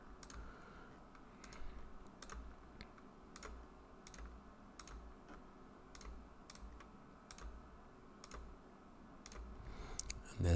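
Sparse computer keyboard clicks tap at an irregular, unhurried pace over a quiet room hum, each key press crisp and close, including the Shift key.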